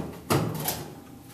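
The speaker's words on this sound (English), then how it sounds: "To remove the top cover, what you want to do is slide it back a couple inches and then lift up." An LG front-load washer's top cover slides back a couple of inches with a short scraping rasp, then lifts off. The scrape is moderately close, and a softer shuffle of the panel follows.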